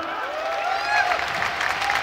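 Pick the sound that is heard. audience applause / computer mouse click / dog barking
audience applause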